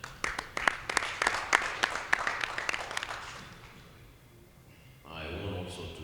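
An audience applauds the CEO of MTN South Sudan at a partnership signing event, steady crowd clapping with sharp individual claps that swells then fades out, followed by a brief murmur of voices.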